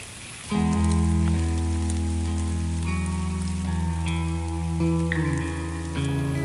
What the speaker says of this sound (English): The PNW's lush beauty comes at the cost of cold, incessant rain.